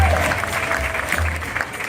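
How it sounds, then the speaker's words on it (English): Brief burst of crowd applause at an outdoor summer jazz festival in New Orleans, a continuous mass of clapping with some voices and low rumbling underneath. "Applause, y'all."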